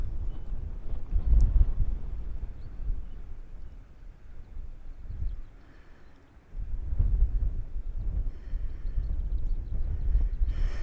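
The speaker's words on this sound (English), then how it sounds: "if the wind is this strong at 5 metres" Strong wind buffets a microphone outdoors in bad weather, with low rough gusty rumbling that rises and falls and eases briefly before surging back.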